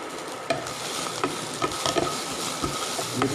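A green chili sautés in a hot pan with a dense continuous sizzle and crackle, close and fairly loud, broken by frequent scraping taps from stirring.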